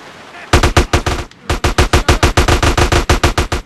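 Rapid automatic gunfire in the video game GTA San Andreas, loud, close bursts of evenly spaced shots with one brief pause in the middle.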